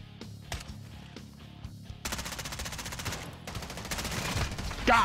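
Gunfire on a video game battlefield with a sniper firing from sandbags: isolated sharp shots at first, then dense rapid automatic bursts filling the rest, with a loud final crack near the end.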